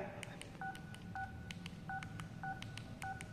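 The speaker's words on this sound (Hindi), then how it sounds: "देख सकते हैं मेरा एक नंबर टाइप किया" Keypad tones ring out from a Jio Bharat phone as a number is typed: a string of short, evenly spaced electronic beeps, clear and close, with no talking.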